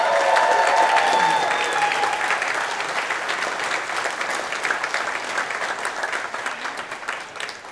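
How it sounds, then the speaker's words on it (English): A college commencement for graduate and professional studies, where a large audience breaks into steady, loud applause that holds for several seconds and slowly tapers without ending. "Let's get a round of applause."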